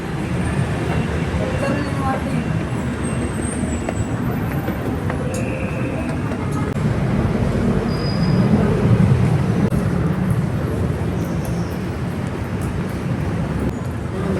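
Continuous rumbling rail noise of an MRT metro train rolling along in Manila, with steady low roar, occasional squeals and clanks, and faint voices in the background.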